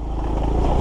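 A small motorcycle engine runs steady and close on a rough road trip to Barangay Diampak, its low pulsing drone loud and continuous over a brief moment.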